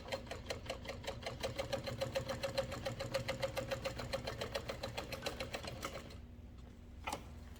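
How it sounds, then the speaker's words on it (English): A sewing machine top stitching a fabric wristlet clutch runs in a fast, even rapid-fire rhythm for about six seconds, then stops, followed by a single brief clack. "I'm just going to lay everything flat and top stitch at 1/8 of an inch"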